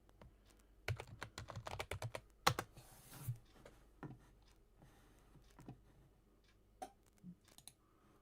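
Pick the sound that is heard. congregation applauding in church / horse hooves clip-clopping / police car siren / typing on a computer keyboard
typing on a computer keyboard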